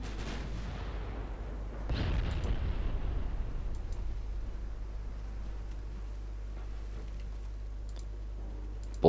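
A torpedo launches from a 1913-era warship in a naval combat game. A sudden broadband burst is followed by a rushing, rumbling wash that fades into a steady low engine drone.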